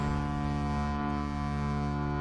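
A long, steady boat horn from the video game Dead by Daylight sounds loud and continuous, a deep tonal blast with rich harmonics holding for the whole stretch.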